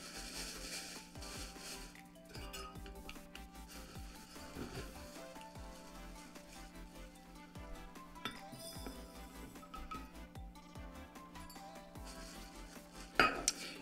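Brown rice is measured into glass jars, with quiet clinks and rattles of grains, scoop and glass, scattered sounds over a low room hum and a sharper clink near the end.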